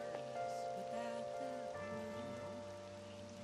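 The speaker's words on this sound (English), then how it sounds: "It's raining" Rain falling in Persona 5 Royal, an even, continuous patter and hiss that stays constant for a few seconds beneath soft background music, with no voices.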